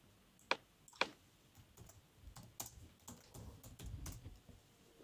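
Quiet computer keyboard typing: irregular soft key clicks with a couple of sharper taps near the start, close and steady over a faint background hum, with no voices.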